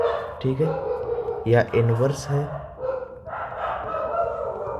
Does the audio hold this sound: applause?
no